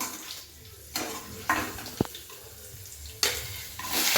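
Onions fry in a pan for a vangi bath dish, a soft steady sizzle broken by several scraping stirs and one metallic clink against the pan.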